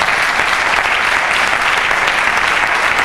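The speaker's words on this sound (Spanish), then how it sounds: "Un aplauso, hombre." Loud, dense applause fills a Cantabrian regional event as a local champion is introduced, an even wall of clapping with no pauses.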